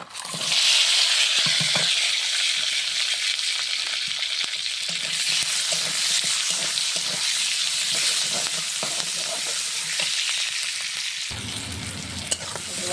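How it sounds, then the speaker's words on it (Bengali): Raw onion, garlic, green chili, bay leaf and cinnamon hit hot oil in a wok for mutton curry, bursting into a loud, dense sizzle that crackles on steadily and shifts to a deeper hiss near the end. "এখন আমি মাংস রান্নার জন্য কড়াইয়ে তেল দিয়েছি বিসমিল্লা কাঁচা পেঁয়াজ কাঁচা রসুন কাঁচা ঝাল তেজপাতা দারচিনি তেলে ঢেলে দিলাম"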